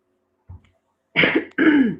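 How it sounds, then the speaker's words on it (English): A single short cough, followed by a couple of seconds of someone talking close by. "Uh-oh, I coughed."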